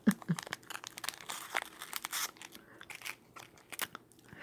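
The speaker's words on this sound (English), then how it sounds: "Still chewing on the gummy." Soft, moist chewing of gummy jelly bean candy, with quiet squishing and faint crinkles throughout, close to the mic and with no talking.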